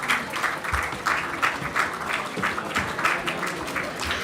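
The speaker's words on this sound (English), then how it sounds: "please keep on clapping" An audience applauds at a Toycathon certificate ceremony, with rhythmic, steady clapping that holds at an even volume and no clear speech.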